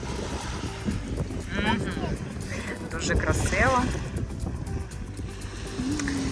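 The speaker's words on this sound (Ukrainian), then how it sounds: "А ще прекрасно те, що на фоні шумить море." Sea waves wash continuously in the background of a seaside spot, a broad steady rushing with some wind buffeting, while people talk over it at close range.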